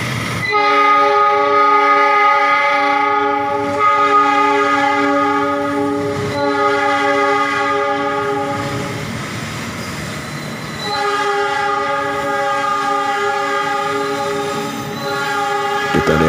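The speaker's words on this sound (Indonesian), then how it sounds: "Penumpang turun kereta langsir menuju ke stasiun Bogor." A shunting train at Bogor station sounds its horn in a long, loud sustained blast, breaking briefly before resuming, over the low rumble of the rail yard.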